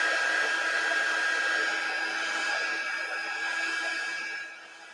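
A hair dryer blows over a wet watercolor painting, a steady close airy whir that runs unbroken, then drops in level just before the end.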